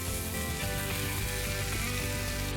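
Prosciutto-wrapped cod sizzles steadily as it browns in a hot pan, a dense continuous frying crackle with a low hum beneath, close and even throughout with no talk.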